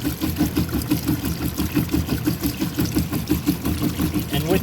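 A Heateflex HPF filter system with its output valve closed recirculates liquid back into its tank, giving a steady close pump hum with a rapid rhythmic pulsing and a watery rush throughout.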